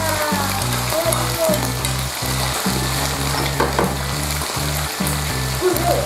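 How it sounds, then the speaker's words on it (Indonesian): Pieces of wild duck (belibis) frying in hot oil, a loud continuous sizzle and crackle close by with steady bubbling throughout, no talk over it. "kita menggoreng ini setengah matang aja ya"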